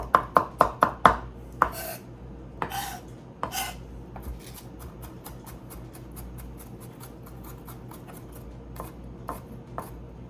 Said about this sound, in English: once you're done cutting your garlic and you get everything all cleaned up from it